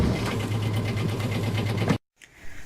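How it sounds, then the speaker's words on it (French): A boat's motor runs steadily at idle, a loud continuous throbbing hum that cuts off abruptly near the end, followed by faint noise. "Notre moteur, le voici. Il va actionner une hélice qui, en tournant, va propulser le bateau"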